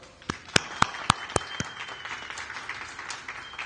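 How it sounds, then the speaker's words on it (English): Applause from a crowd at the inaugural ride of the Dorothy Day Staten Island Ferry, with a handful of sharp, close individual claps standing out early over a softer, thinner background of clapping. "let's give her a big round of applause."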